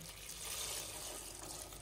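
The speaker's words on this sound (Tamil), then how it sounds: "தேவையான அளவு தண்ணி ஊத்திக்கலாம்." Water runs steadily from a tap into a cooking pot of stuffed brinjal for a Tamil side dish, a continuous close splashing flow that lasts the whole moment with no talking.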